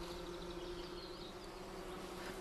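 A honey bee colony that lost about half its bees over winter gives off a faint, steady droning hum with a few brief higher buzzes, alone and low in level.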